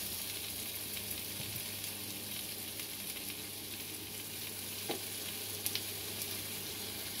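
Potato pieces frying in a pan while making chicken adobo, a constant dense sizzle with a few faint clinks of a utensil near the end, close and even in level.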